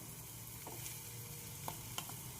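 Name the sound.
poppy seed paste added to a hot pan, sizzling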